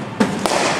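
A cricket bat hitting the ball at a men's match, a single short sharp crack followed by a second fainter knock, over a steady outdoor background.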